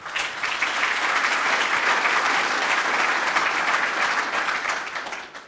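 Audience applause at a Rangers football club EGM, a full, sustained burst of clapping from a large crowd that swells quickly, holds steady and fades away at the end.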